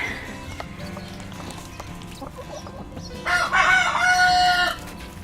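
Quails call from inside a small backyard cage, with soft chirps and clucks throughout and a louder, sharper burst of calling near the end.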